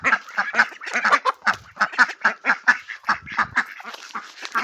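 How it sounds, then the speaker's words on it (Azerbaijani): A flock of farm ducks quacks loudly and rapidly at feeding time, dense overlapping honking calls close by, with no talking. "Şimdi aparaq ördəklərimizə yemək verək."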